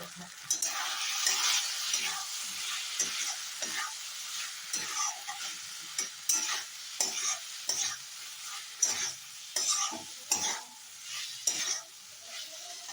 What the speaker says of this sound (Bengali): দেখুন আমি এটা কষতে দিয়ে দিয়েছি